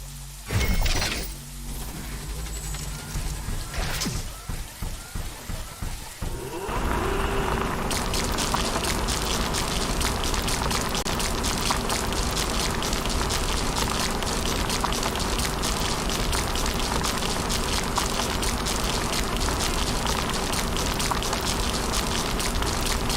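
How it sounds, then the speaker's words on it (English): Rain falls in a video game, starting with a few scattered crackling bursts and sharp impacts, then shifting into a dense, steady hiss of rainfall that continues unbroken for the remaining twenty seconds. "The rain is over."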